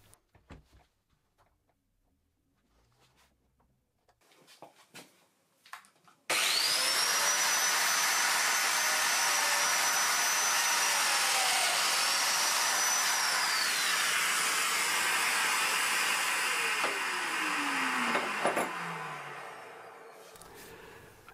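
A domino joiner cuts mortises into walnut rails with its dust extractor running, a sudden loud, steady whine and vacuum roar starting after quiet handling noises and easing off near the end.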